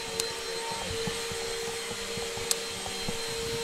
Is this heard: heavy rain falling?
no